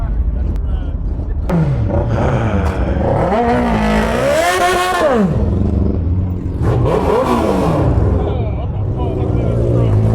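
A Harley-Davidson motorcycle engine revs loud and close during a ride, its pitch climbing and falling in repeated swells, with a voice talking over the engine.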